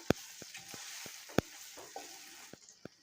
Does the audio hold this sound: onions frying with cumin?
yes